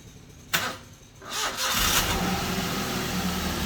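A used car on a dealer's showroom lot starts up: a sharp crank burst, a brief lull, then the engine catches and settles into a smooth, steady idle.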